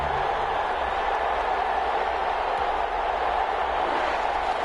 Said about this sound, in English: This crowd is ready as their guys get set to match up between the Carolina Panthers and the New Orleans Saints.